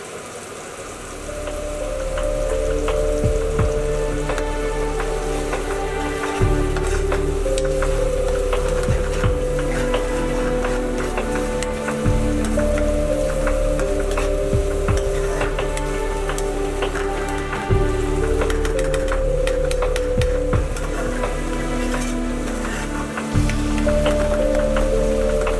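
Onions and fenugreek leaves fry in a pan for a beef dopiaza, giving a steady, loud sizzle that runs without a break under a background of music, with no talking.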